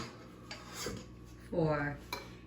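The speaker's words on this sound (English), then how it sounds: "I had a bowl right here, but I'll take another one out" A bowl taken out and set down in a home kitchen while decorating an ice cream cake, a couple of light clinks and a ceramic knock, under talk.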